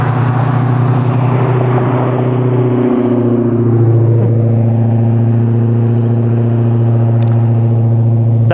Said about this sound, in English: that was a car I should have been filming.